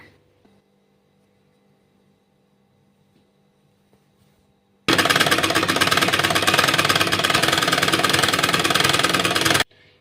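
A sewing machine stitches a folded strip of cloth for a shirt button placket in one continuous loud, rapid run of about five seconds, preceded and followed by near silence.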